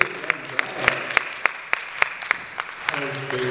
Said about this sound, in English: let's clap our hands and celebrate